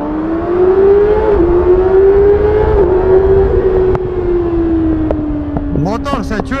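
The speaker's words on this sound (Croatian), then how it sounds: "Motor se čuje bolesno na visokim okretajima, s obzirom da ima tvornički auspuk" A 2024 Kawasaki Ninja 636 motorcycle with its factory exhaust revs high inside a tunnel, a loud sustained whine that holds nearly level, swells slightly and then slowly sinks, echoing off the walls.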